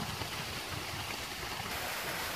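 The roughly 30-foot Newton Canyon waterfall is heard from above as a steady, broadband rush of falling water, constant and even throughout with no voices.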